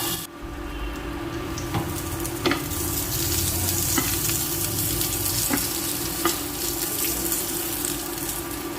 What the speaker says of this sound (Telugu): నల్లేరు కూడా ఇందులోనే వేసుకొని కొంచెం బాగా వేయించుకోవాలండి